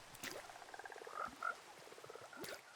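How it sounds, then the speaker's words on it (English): Minecraft frogs croak in short, repeated calls at close range, several overlapping chirpy croaks over a quiet background with no talking. "Oh, we got little frogs everywhere."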